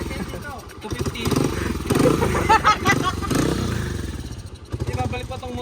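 A motorcycle engine rumbling and revving on a rural road past rice fields, close and fairly loud, with people talking over it.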